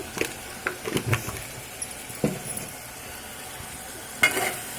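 Food seasoned with chili powder and salt sizzles in a pan as it is stirred, giving a steady close hiss broken by scraping strokes and a few light clinks, with no talking.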